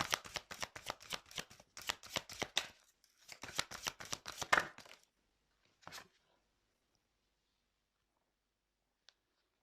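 Tarot cards shuffled in two quick riffling bursts of rapid papery flicks, then a single card drawn with a brief slap before near silence.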